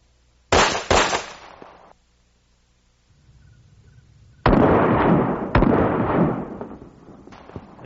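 Two sharp pistol shots fired with a Night Master weapon light crack in quick succession, followed after a pause by more loud reports with echoing decay, close and outdoors.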